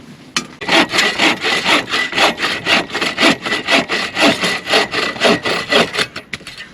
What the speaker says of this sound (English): you just can't beat these bow reels. Great freaking saws